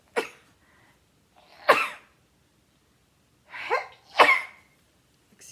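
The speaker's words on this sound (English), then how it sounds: "I'm gonna sneeze" A person sneezes repeatedly: two sharp bursts close together, then a pause and another pair of loud sneezes, near and alone with no talk between them.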